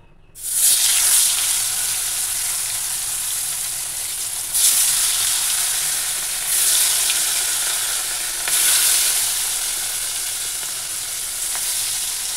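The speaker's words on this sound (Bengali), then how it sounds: "ওদিকে মাছ ভাজা হচ্ছে" Turmeric-coated katla fish frying in a pan in a home kitchen, giving a loud, continuous sizzle with periodic bursts of stronger spitting hiss every couple of seconds, no voices.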